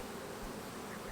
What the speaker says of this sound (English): they're really good looking bees